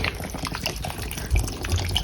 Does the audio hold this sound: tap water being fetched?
yes